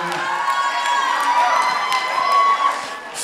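An audience at a senior dance competition nationals cheers and whoops for dancers, a dense, loud, sustained crowd roar with scattered shouts and some applause.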